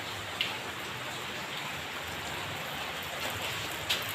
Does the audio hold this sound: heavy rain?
yes